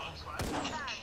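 A single sharp gunshot cracks in a video game firefight, sudden and loud against quiet background, with a brief echoing tail and faint voices around it.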